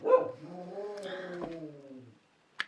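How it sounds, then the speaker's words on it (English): A dog gives one drawn-out, whining bark that trails off, close by, followed by a short pause and a sharp click. "she is barking outside for the past 2 minutes"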